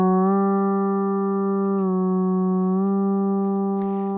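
Bass guitar through a Boss XS-1 polyshifter with the expression pedal pushed toes-down holds a sustained shifted note, stepping in pitch a couple of times, moderately loud with a faint scrape near the end.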